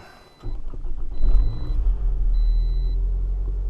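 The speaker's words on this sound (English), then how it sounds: "this always idles high when it's cold, so that's normal" A car engine idling high on a cold start after a computer reset, a steady low rumble that kicks in abruptly near the start and holds, close and fairly loud, with no talking.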